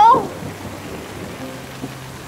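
Rain falls at night as a steady, fairly soft wash of noise, with a brief tonal sound at the very start and a faint low hum beneath.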